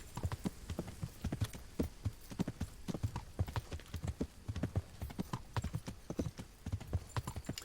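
Horse hooves clip-clop in a steady, fast rhythm throughout while riding in the medieval video game Kingdom Come: Deliverance, close and moderately loud with no talk over them.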